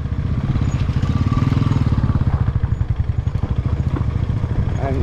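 A KTM Pro-XP motorcycle engine braking on a downhill trail descent, a close, loud rapid low putter with throbbing pulses that slow and loosen toward the end, with some clatter over the engine.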